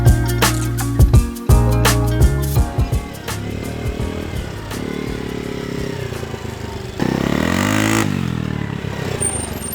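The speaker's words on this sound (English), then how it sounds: "How's the four-wheeler?" A four-wheeler ATV engine revs hard while being ridden, loud and close, its pitch climbing and dropping through repeated throttle bursts with some rattling clatter.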